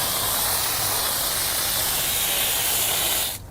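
Water spray rinsing brake dust and dirt off a very dirty car wheel rim, a loud, steady hiss of spray lasting a few seconds and cutting off at the end, close and without talk.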